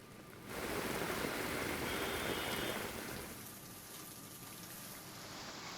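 Heavy rain falling, a dense, loud wash of rainfall that swells sharply after a quieter start and then eases slightly but keeps pouring, with no voices.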